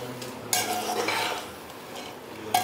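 A spoon scrapes and clinks against a metal pressure cooker while stirring rice with vegetables for matar paneer pulao, with brief metallic taps at the start and end, close and moderately loud.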